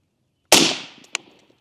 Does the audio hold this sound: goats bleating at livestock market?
no